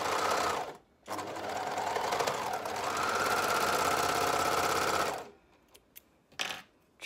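An overlocker runs fast and loud for several seconds stitching and trimming a short seam on a tee, a dense mechanical whir that stops abruptly, followed by a few quieter clicks and thumps.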